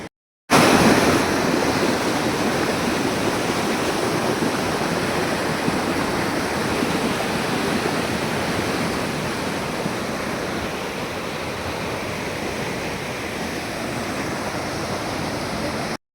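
The Ghod river at Kalamb, in flood after continuous rain, gives a broad, constant roar of rushing water. The roar is loud and steady for the whole span, with some wind buffeting the microphone and no voices.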